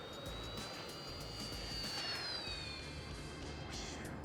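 An Avios Kobuz sports-scale aerobatic glider, a 2200mm EPO foam RC model with flaps, whooshes past in a power-off dive at idle throttle. The rushing airflow rises and falls against steady outdoor background noise, with no voices.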